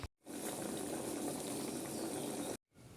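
Water poured over jaggery in a pan on the stove, a steady close bubbling, hissing wash that runs almost without a break and cuts off abruptly near the end, with no talking.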